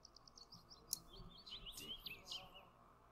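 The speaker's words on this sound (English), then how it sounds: "Just saying thank you to the birds?" Birds chirp in a video game: a scatter of faint, high tweets and short trills over a soft background hum, fairly quiet and thin, with a few quick calls clustered together.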